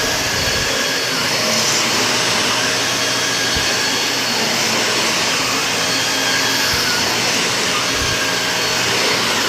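Shark Rotator vacuum cleaner running on thick, high-pile carpet, a loud steady roaring whine with broad hiss, close and continuous, with occasional low thumps as it is pushed.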